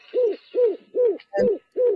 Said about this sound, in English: That's a bird in the top.